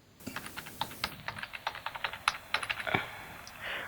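Fingers type a password on a computer keyboard, a quick irregular run of about twenty close clicking keystrokes over a few seconds, with no voice heard.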